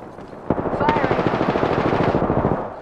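Automatic gunfire in the battle royale game Apex Legends, a sustained rapid burst of shots, loud and close, opening with a sharp crack and running steadily to the end.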